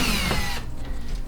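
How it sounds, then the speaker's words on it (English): A power drill bores a center hole into a kayak hull, with a brief high whine that stops abruptly partway through, followed by quiet handling noise. "I'm going to drill it my center hole."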